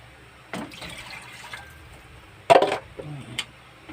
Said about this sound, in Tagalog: Lalagyan na natin ngayon siya ng tubig